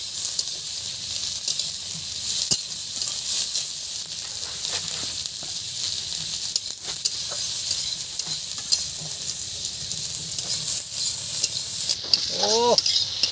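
Onions fry in a pan with a bright, constant sizzle and hiss, broken by a few stirring scrapes, loud and close throughout.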